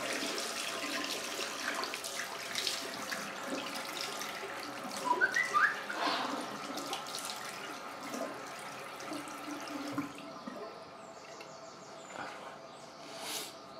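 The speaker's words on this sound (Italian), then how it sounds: "mi sciacquo il viso" Cold water runs from a bathroom tap as a face is rinsed, a soft continuous trickle with a few faint splashes, close but quiet, with no talking.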